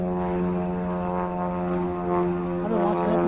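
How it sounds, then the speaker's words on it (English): A yellow Piper Cub pontoon plane drones overhead, its propeller engine a steady buzzing hum with strong harmonics, moderately loud and slowly shifting in pitch as it passes. "Look, it's pontoon plane."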